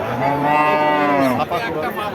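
A dairy cow at a busy cattle market gives one loud, close, drawn-out moo that falls away near the end, over a crowd murmur.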